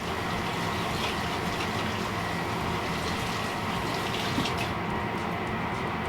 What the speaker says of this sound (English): So I'm gonna rinse these real quick. Just with cold water.